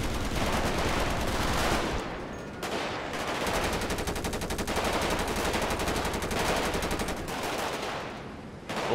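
Several long bursts of machine gun fire in a bank robbery video game, rattling rounds separated by brief gaps, loud and close, with no speech.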